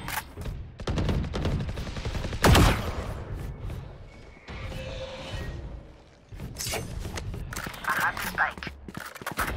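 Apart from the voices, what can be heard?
gunfire in the video game Valorant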